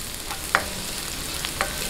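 Sautéing in a frying pan for beef mechado, with a steady low sizzle and two brief scrapes of a utensil stirring in the pan, close by, with no talk.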